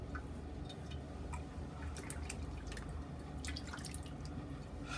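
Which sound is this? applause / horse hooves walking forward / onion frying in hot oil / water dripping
water dripping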